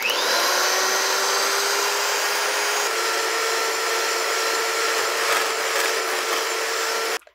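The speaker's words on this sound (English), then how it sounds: "And we're going to beat it until it stiff peaks." Egg whites beaten to stiff peaks with an electric mixer for zero-carb pizza: a loud, steady motor whir close by that runs nearly unbroken and then cuts off at the end.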